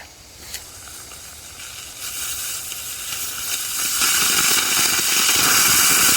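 A single rocket motor fires on a rocket-propelled bicycle, a rising hissing roar that builds steadily louder over several seconds after a couple of faint pops.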